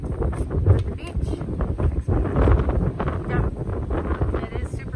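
Strong wind buffets the microphone at Provincetown beach in heavy, uneven gusts that rumble loudly and continuously, with a voice briefly audible under the roar.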